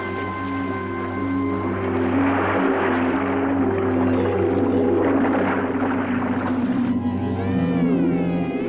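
Whale calls in the open ocean, drawn-out tonal moans and rising, bending whistles layered over a steady low drone, loud and continuous with a dense wash of sound through the middle.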